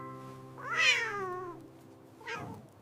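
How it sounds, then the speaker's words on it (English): A single drawn-out cat meow rising and falling, followed by a shorter second meow, close and clear with no talking. "C for cat."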